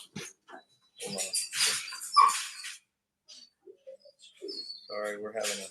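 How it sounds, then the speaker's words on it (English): A dog barks loudly indoors in bursts during a live-streamed Bible reading, the sharp barks arriving in clusters with pauses between them and mixed with talk. "we're having a dog moment. A little loud."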